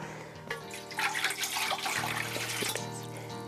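Water poured close up into a bowl for empanada dough in a home kitchen, a continuous trickling splash lasting a few seconds with faint clatter.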